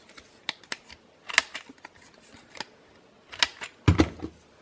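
Scrapbooking paper getting its corners rounded with a punch: a series of sharp, crisp clicks and snips at irregular intervals, ending with a heavier, louder crunching press.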